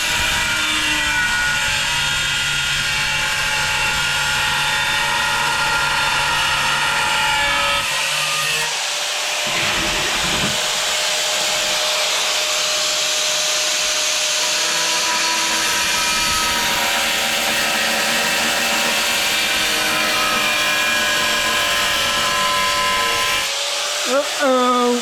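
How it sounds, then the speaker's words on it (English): An angle grinder held slightly angled cuts into tile, a loud, steady high-pitched whine with a gritty abrasive edge that dips briefly in pitch partway through and then keeps grinding close up throughout. "I've got my grinder slightly on an angle. I'm staying away from that edge."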